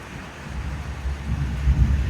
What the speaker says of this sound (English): The wind's kind of strong,